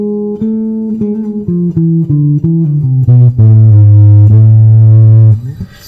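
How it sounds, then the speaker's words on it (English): A guitar plays single notes stepping down through a harmonic minor scale, each note plucked cleanly at an even pace before the last one rings out long and loud. "So let's do also the harmonic minor scale."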